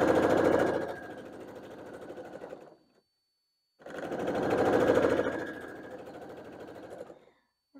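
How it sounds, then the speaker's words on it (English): A sewing machine stitches quilt pieces together for a barn star quilt block in two steady runs of rapid mechanical whirring, each a few seconds long, separated by a brief pause, close and clear with no talking. "we are just going to sew them together"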